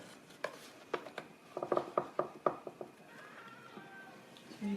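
A warmed knife cutting into a no-bake piña colada cheesecake, a series of soft knocks and taps against a plate or board, faint and close, with a quiet voice at the end.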